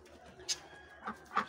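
Farm birds call in short, scattered chirps and coos, three brief bursts over a quiet outdoor background during a morning feeding, faint and somewhat distant.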